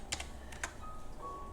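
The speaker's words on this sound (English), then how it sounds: "Let me type the stop loss." Several quick, close keystrokes tap on a computer keyboard while a trading stop-loss value is entered, a short cluster of light clicks over a quiet hum.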